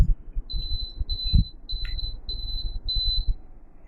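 A device counting down from 60 to zero gives five evenly spaced, high electronic beeps, each about half a second long, over a low background rumble.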